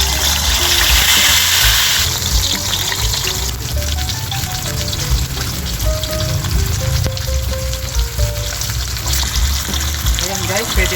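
Tilapia sizzling and frying in hot cooking oil, a loud, continuous crackling hiss with bubbling spatter that carries from start to finish.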